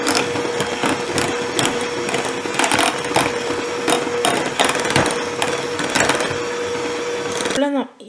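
An electric mixer beats cream cheese frosting with vanilla essence for a red velvet cake, giving a continuous close buzzing whir with faint rattles against the bowl before it cuts out abruptly at the end.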